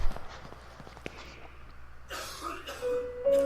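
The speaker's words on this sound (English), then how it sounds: "Whoa, someone's coughing." A person coughs in the video game The Last Door, several faint, brief coughs over quiet room noise, followed by a louder harsh cough and a rising whine at the end.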